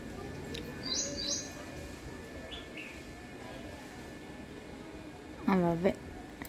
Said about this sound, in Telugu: ఏవో పక్షులు వస్తే తింటే పోతాయి అంతే.